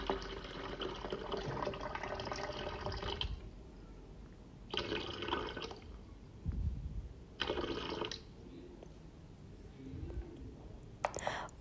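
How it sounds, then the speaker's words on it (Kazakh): About 500 grams of cold water is poured into a jug while making an oxygen cocktail: three separate bursts of splashing, gushing liquid, the first longest, with quieter pauses between them. "кувшинімізға салқын 500 грамм су құйып дайындап қоясыздар"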